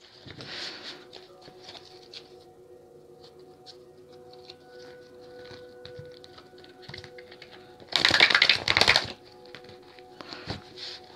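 Tarot cards riffle and patter softly close by, with a louder, brisk burst of flicking shuffles near the end.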